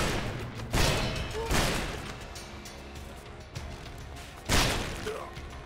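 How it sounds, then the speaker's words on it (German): Loud booming explosions in the video game Elex 2 go off three times, separated by a few seconds, over a steady background of game noise. "Die Explosion hier."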